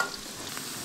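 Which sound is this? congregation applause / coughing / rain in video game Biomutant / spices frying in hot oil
spices frying in hot oil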